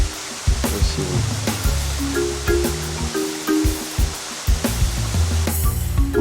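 A clear mountain spring in the Bulgarian Rhodopes spills through a small waterfall, a constant bright splashing rush close by, with intermittent low thumps and tonal rumbles from handling noise mixed in.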